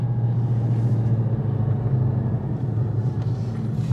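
A supercharged Chrysler 300 Redeye engine drones loud and steady up close, a deep constant rumble with a whining edge and no breaks or talk.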